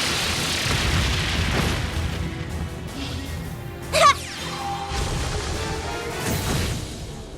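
The Brionac weapon fires in Trails of Cold Steel III with a loud, rumbling boom and crash that swells and then tails off, followed by a sharp burst partway through and lingering rumbles afterward.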